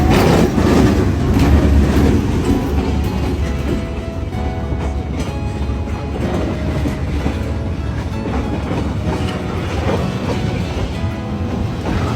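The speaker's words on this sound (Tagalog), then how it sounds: "sinabihan na kami na tumabi na dahil dada na ang tren" A train rumbles past on the tracks, loud and close, with steady rolling noise and rhythmic wheel clatter throughout.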